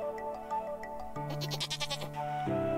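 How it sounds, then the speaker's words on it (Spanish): A goat in the Stardew Valley video game gives a quick series of wavering bleats over steady background game music. "Necesito comprarle algo. Una cabra, si puede ser posible."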